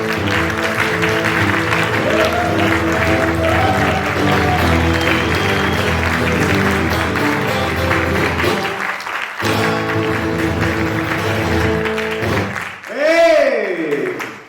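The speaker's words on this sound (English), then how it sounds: "So please give a round of applause for Thomas." A crowd at a stand-up comedy show in Malaysia applauds as a comedian is introduced, the clapping mixed under loud walk-on music that cuts out briefly before a final rising whistle-like sweep.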